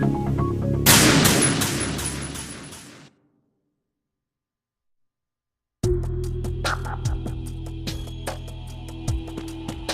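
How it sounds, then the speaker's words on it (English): Enemy gunfire in Metal Gear Solid 2: a loud burst of rapid automatic shots cuts off into silence, then a fresh run of separate sharp shots rings out against a low background hum. "I'm under enemy fire!"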